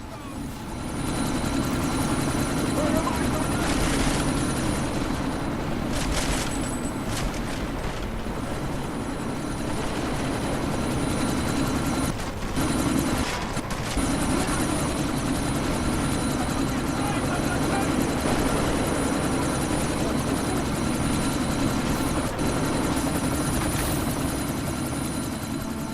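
A helicopter in the video game Deus Ex: Mankind Divided produces a loud, continuous rotor drone with a steady high whine, running throughout under urgent radio voices and sporadic bursts of gunfire-like cracks.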